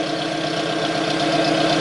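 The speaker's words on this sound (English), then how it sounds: "I'll rev it up." A 2001 Ford Focus ZX3 with an eBay exhaust from the headers back and a cat delete drones loudly and steadily at close range, its raspy engine note holding even and building slightly toward the end.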